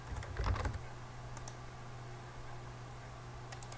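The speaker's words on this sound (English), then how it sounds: "It's kind of hard to type sideways," Fast clattering keystrokes on a computer keyboard while entering an axis label in Excel, a quick burst of taps early on, then sparse light clicks over a quiet background hum.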